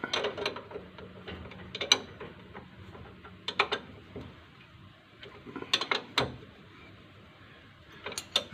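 A ratchet tightens a Land Rover brake caliper bolt during a rear brake pad replacement after a disc conversion. Sharp, quick clicking comes in short bursts with pauses between them, close up and fairly quiet, with no talk.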